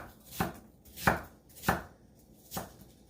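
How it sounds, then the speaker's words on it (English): A knife chops cored, halved apple slices on a cutting board for fritters, four crisp separate thunks spaced roughly evenly apart, close and alone. "I'm gonna chop these up."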